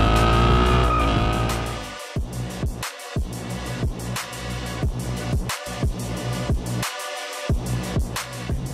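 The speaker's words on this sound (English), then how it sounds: "Under the bonnet, you will find Ford's 5-liter Coyote V8." A Ford Mustang Fastback Bullitt with its 5-litre Coyote V8 driving hard, engine roaring through a falling pitch, then a rapid series of sharp gearshift and revving bursts with brief silent gaps, close and loud, no talking.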